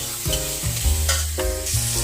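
Food frying in oil for eggplant fritters with khichuri, a loud close sizzle with clattering strokes and low thumps, no speech.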